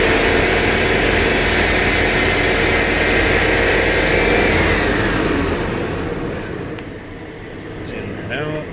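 A car engine with a fuel delivery fault is revved up to raise the RPM, giving a loud, steady, close drone that holds for several seconds and then eases off toward the end.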